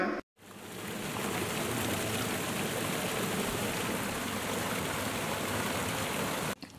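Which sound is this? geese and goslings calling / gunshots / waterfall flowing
waterfall flowing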